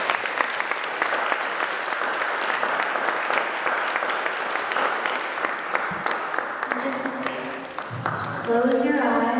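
An art-performance audience breaks into broad, full applause that holds steady, then thins out near the end as a voice and some tonal sounds come in over the fading claps.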